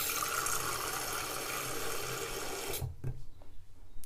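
Running tap water fills a bowl in the sink with a steady rushing splash for nearly three seconds, then cuts off, leaving a few faint drips and clinks.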